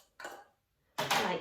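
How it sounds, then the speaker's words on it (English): Two tins of tuna tipped into a mixing bowl with red onion, heard as two short metallic clatters and scrapes separated by a brief silence. "So now we're going to carefully pop in our 2 tins of tuna"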